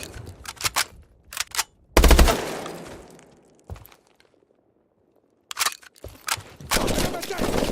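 Gunfire bursts in the military shooter Call of Duty: Advanced Warfare, a loud burst near the two-second mark followed by sharper shots and crackling fire later, with voices calling out between the volleys.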